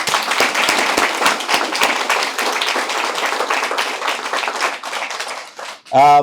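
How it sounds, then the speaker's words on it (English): Audience applause at a ribbon cutting ceremony, dense steady clapping from a crowd, fairly loud and close, fading near the end before a short burst of another sound. "They deserve a round of applause too."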